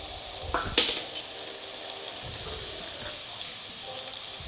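Pav bhaji spices frying in a pan, a steady low sizzle running throughout with a couple of sharp clinks from a spoon near the start, close and fairly quiet.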